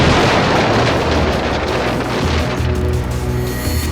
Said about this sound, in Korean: 큰 폭발음과 함께 불꽃이 600m 상공까지 치솟았다